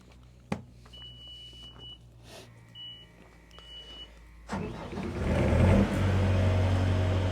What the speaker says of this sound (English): this time I'm going to start the machine, start the generator, and show you that the welder powers up